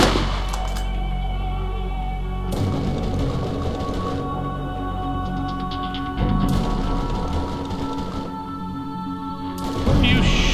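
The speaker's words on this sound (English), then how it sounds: "What are you shooting?" Gunfire in the video game Borderlands during a fight with bandits, several bursts of shots separated by quieter stretches, with game sound effects in between.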